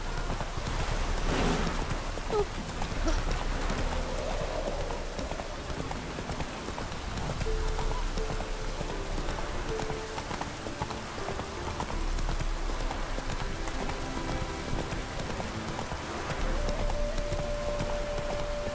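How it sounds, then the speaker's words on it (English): Rain falls steadily in The Witcher 3, a continuous hiss of drops on the ground mixed with the clip-clop of a horse's hooves, with soft ambient tones underneath and no talking. "No use doing any work in this rain."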